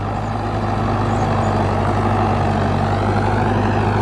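An Arjun Novo 605 tractor engine pulls a 9-foot seeder in a field, a loud, steady diesel drone with a strong low hum that runs unbroken and close, with no talking.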